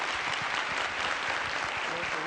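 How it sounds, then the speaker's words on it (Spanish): Steady applause from a forum audience after panelists are thanked, a continuous wash of clapping at moderate level with no break, a few low voice-like tones near the end. "les pido por favor un aplauso para Aldo y para Jacobo"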